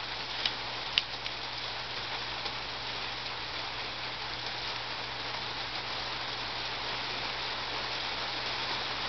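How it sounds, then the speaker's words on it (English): Steady rain falls outdoors, a continuous broadband hiss of drops on surfaces that holds even for the whole stretch, with a couple of faint taps near the start and no voices. "as you can tell, it's raining out, so that's kind of hard"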